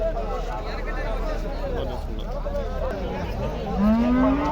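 A cow lows at the Palamaner cattle market, one rising moo near the end over a steady crowd hubbub with voices talking throughout.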